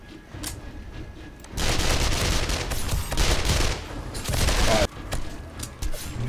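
In the video game 7 Days To Die, a sledge turret hammers away in a loud, dense barrage of heavy impacts that lasts several seconds, then breaks off, with quieter ambient game noise before and after.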